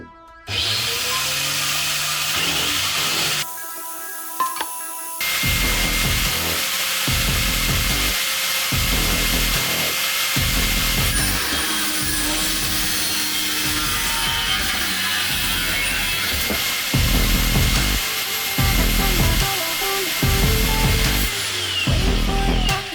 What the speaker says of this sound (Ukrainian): Болгарки будуть різати під своєю вагою.